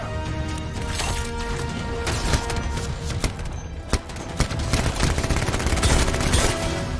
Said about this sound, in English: This little pistol is so cool.